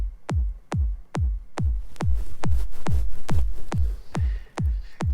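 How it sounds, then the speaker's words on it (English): A punchy kick drum sample from a mix hits alone in a steady, even rhythm, about a dozen deep thumping beats with a bright click on each attack, loud and close. "what I did was we started with the kick drum"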